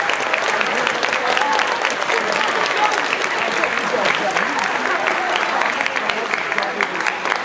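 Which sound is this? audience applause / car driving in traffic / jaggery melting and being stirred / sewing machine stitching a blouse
audience applause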